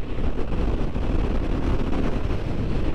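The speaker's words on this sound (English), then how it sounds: "this is the parallel twin with a 270 degree crank, this one. So you get that lovely sound" A 2023 Honda Hornet 750 ridden on the road, its 270-degree-crank parallel twin a steady, loud drone mixed with heavy wind rush across the microphone.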